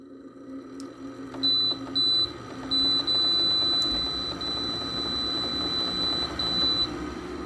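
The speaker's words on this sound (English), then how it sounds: "the annoying beep covers over the compressor" A loud, steady high electronic beep from a Frigidaire window air conditioner sounds in bursts, then holds, over the low drone and rattle of its running compressor; the unit has worn-out bearings.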